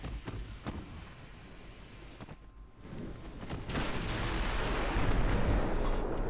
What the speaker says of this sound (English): the heavier main guns are definitely causing a problem for him, causing more damage